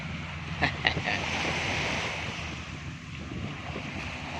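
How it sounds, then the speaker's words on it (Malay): Sea waves at Tanjung Uma beach in Batam, facing Singapore, with a steady wash of surf and wind noise on the microphone, a few brief knocks near the start. "Ini pantai Tanjung Uma lah ni. Yang begitu indah berhadapan dengan Singapura, Malaysia, Harbour Bay."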